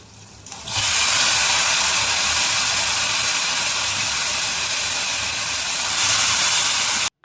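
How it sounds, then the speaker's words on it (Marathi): Moong dal and tomatoes hit a hot tempering in a pan with a sudden, loud, continuous sizzle that holds steady for several seconds and swells slightly near the end, without any voices. "ह्यामध्ये आता मुगाची डाळ आणि टोमॅटो फक्त घालून मी फोडणीला टाकणार आहे"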